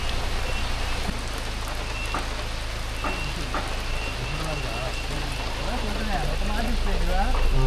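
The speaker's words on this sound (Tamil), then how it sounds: "சரியான மழைங்க. மழையில் மாட்டிக்கிட்டோம்." Heavy rain pours steadily during a ride near waterfalls in Wayanad, Kerala, a dense constant hiss that holds throughout with a low rumble beneath, while people talk faintly under it.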